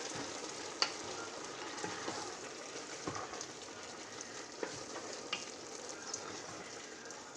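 Corn chaff and meat cooking in a pot give a faint, steady sizzling hiss with occasional soft clicks and scrapes from stirring. The sound is quiet and distant, and no voices are heard.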